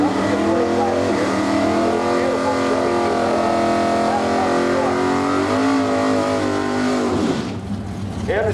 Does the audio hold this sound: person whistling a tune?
no